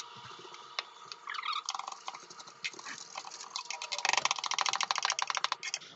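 A knife dicing a small red onion on a cutting board, producing quick, steady chopping taps that speed up into a dense rapid patter toward the end, close and fairly quiet.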